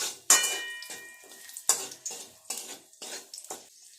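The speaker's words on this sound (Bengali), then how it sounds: "অল্প একটু কাজু বাদাম আর কিশমিশ ভেজে নেব হালকা করে।" Cashews and raisins fried lightly in a little oil in a kadai, heard as sharp metal spatula scrapes and clinks against the pan in an uneven rhythm over a faint sizzle, close and fairly quiet.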